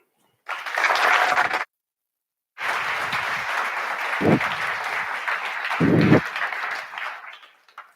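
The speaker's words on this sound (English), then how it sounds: "And I want you to put a huge round of applause together for Jesse Stewart." Loud audience applause at a TEDx talk in two bursts, a brief pause between them, then sustained clapping with a few louder accents, fading out at the end.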